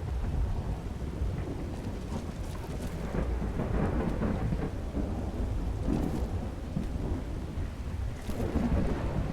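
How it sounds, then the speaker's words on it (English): Steady rain pours in the Skyrim video game, with deep rolling thunder rumbling underneath in repeated swells and no voices over it. "Is it because of the stupid rain?"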